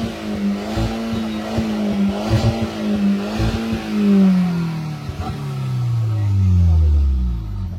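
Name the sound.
Skoda Octavia vRS Mk1 car revving with end can deleted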